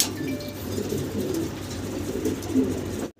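Black Mundian pigeons coo, a male calling in a steady low murmuring rumble that runs close and fairly loud through the whole stretch, with faint background noise and no clear talk.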